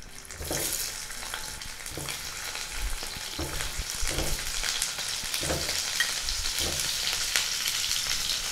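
Boiled small potatoes fry in hot white oil in a kadai for methi aloo dum, giving a steady, close crackling sizzle broken by soft thuds of stirring, with no voices.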